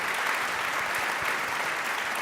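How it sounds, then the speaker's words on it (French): Sustained audience applause at a gala honouring Occitanie ambassadors, a dense, steady wash of many hands clapping at full volume throughout, with no voices standing out. "sous les applaudissements, bien évidemment."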